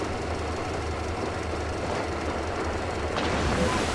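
In the video game Metro Exodus, a rail car engine gives a steady low mechanical rumble with a faint knocking texture. It holds at constant loudness throughout and swells slightly near the end.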